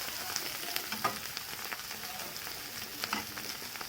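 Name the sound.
frying onions and coriander in a pan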